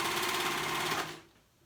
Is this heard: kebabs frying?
no